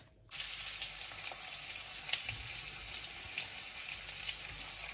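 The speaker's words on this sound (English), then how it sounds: "And I will fry the onions now." Onions frying in oil in a pan with garlic ginger paste and ground masala, a steady bright sizzle starting after a brief quiet moment and continuing evenly at close range, with no voices.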